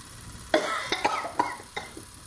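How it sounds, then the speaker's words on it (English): One person gives a short burst of several quick coughs close by, each a sharp throaty hit over about a second and a half. "I had a cough."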